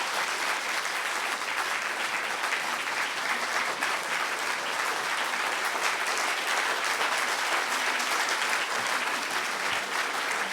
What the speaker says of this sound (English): Please join with me in welcoming Reverend Young-Hee Kim with a very warm round of applause.